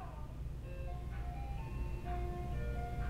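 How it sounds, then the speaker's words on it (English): An ice cream truck's jingle plays a repeating melody of clear tones, looping steadily for a few seconds over a low rumble of traffic, with no talking. "I really hate this ice cream truck"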